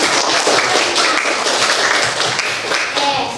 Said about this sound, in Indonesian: Tepuk tangan dulu untuk piket hari ini